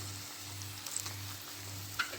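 Chicken pieces sizzle in a single frying pan over medium heat, a soft steady crackle with faint pops and a low background hum, no voices.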